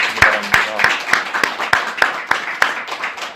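A congregation claps during a Korean Sunday church service, a brief burst of individual hand claps in an irregular rhythm, fairly close and moderately loud, with no talk over it.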